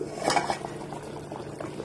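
A pot of capsicum and chickpea curry bubbling steadily on the stove, a soft continuous simmer with a light clink of metal near the start.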